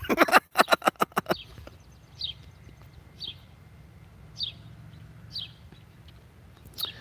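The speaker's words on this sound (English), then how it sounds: "you can hear that bird, that chirping, that sparrow" A sparrow perched on a utility pole chirps in single short calls spaced about a second apart, clear but modest in level over a quiet outdoor background, after a quick burst of louder clatter at the start.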